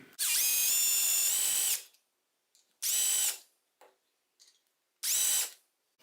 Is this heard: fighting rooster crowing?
no